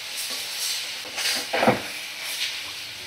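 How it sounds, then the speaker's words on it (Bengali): Spices and chopped tomato are stirred in a pan for a fish curry, producing a low sizzle under a few soft scraping strokes, with one louder clunk in the middle. "সব মশলাগুলো ভালো করে আমি নাড়াচাড়া করে নেব।"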